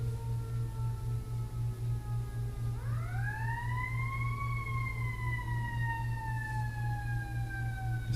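A siren wails in the distance over a steady low hum, its pitch sweeping up and then slowly falling in one long rise-and-fall cycle.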